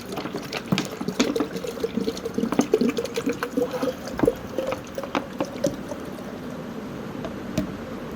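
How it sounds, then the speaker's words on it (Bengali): Water mixed with poultry medicine splashes and trickles as it is poured into a chicken drinker in uneven gurgling bursts, close by, with no talking. "আমি সম্পূর্ণ পানিটা দিয়ে দেবো ভিতরে।"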